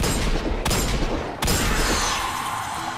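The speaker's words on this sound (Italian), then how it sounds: "Questo cannone è devastante, eh? È veramente devastante." Heavy portable cannon fire in the sci-fi shooter Destiny 2: dense, loud blasts and booming impacts with two sharp cracks, over continuous battle noise.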